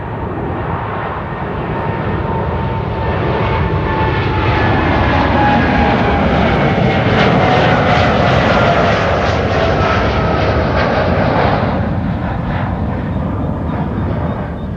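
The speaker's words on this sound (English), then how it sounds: "KLM flight 615 to Portland, Oregon, 787-10 Dreamliner" A KLM Boeing 787-10 Dreamliner jet on flight 615 to Portland, Oregon passes at Amsterdam Schiphol Airport, a loud continuous engine roar that swells and shifts in pitch over about fifteen seconds, with no voices.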